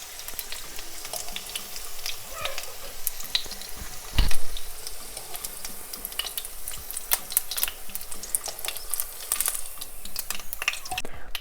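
Potato and minced-meat patties fry in a pan with a steady, even sizzle that carries on throughout, and a brief louder rustle breaks in partway through.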